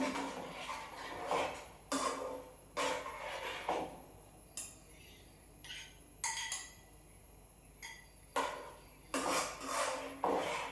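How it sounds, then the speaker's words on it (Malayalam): Metal pans clank and clatter in sharp, irregular bursts as cookware is picked up and set down, with quiet gaps between, as a pan for tempering mustard seeds is set out. "കടുക് വറുക്കാനുള്ള പാൻ എടുത്ത് വയ്ക്കാം."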